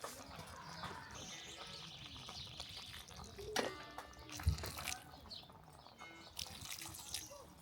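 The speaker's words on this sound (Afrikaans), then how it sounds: "En water bysit." Water is poured into a pot of curry being cooked at a campsite, heard as faint trickling, splashing and dripping with a few soft knocks, quiet and close.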